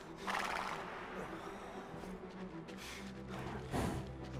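Horse whinnying in the video game Valiant Hearts, a loud neigh near the start and another rising near the end, over steady game ambience and music.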